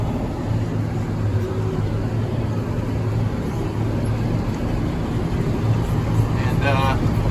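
A tractor engine drones steadily and close while it pulls a hay rake and backs up in a hayfield. Its low rumble stays constant, with a few faint higher tones near the end.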